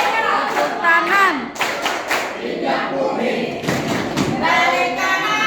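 Rhythmic group hand clapping by participants at an Indonesian scouting training session, loud bursts of clapping over lively shouting and chanting voices.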